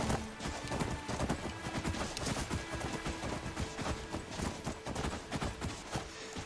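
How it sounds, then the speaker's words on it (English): Horse hooves clip-clopping in the video game Skyrim, a steady, quick rhythm of hoof beats over continuous background noise, moderately quiet throughout with no talking. "Oh, there's my horse."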